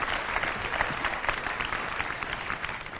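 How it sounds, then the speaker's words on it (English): Steady audience applause fills the room, dense and continuous at a constant level, with no voices rising above the clapping. "Get a round of applause, guys."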